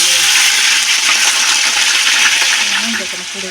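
Grated onions sizzle in hot oil with whole cinnamon, cardamom and cloves, a dense, steady hiss of frying close up that holds throughout and eases slightly toward the end.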